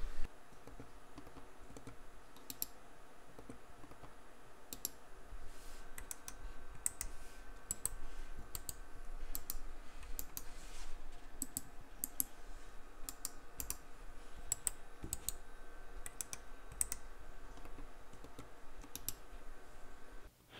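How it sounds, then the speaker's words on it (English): A noiseless computer mouse clicked alongside four other mice, two wireless and two wired, giving repeated sharp close clicks in irregular bursts with quiet gaps between, no talking. "I'll just show you guys how loud it clicks against four other random mice that I found, two wireless and two wired"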